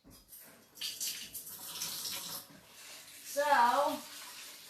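Running water at a sink while a sprouting seed blend is rinsed, a soft splashing flow that swells toward the end, with a person speaking over it.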